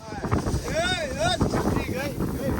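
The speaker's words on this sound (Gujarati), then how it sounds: "હા ભાઈ વાહ પવન જ આવે છે. પવન જ પવન" Strong wind at Mahabaleshwar buffets the microphone in a continuous roar, with a voice talking over the gusts.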